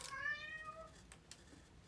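A cat meows once outdoors, a clear but faint cry near the start that fades quickly into quiet background.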